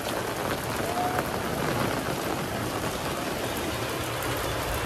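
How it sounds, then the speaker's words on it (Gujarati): Steady rain pours down on a metal roof sheet, a dense continuous hiss of drops on surfaces with no pauses. "તો જો કાંઈ વરસાદ ચાલુ થઈ ગયો છે"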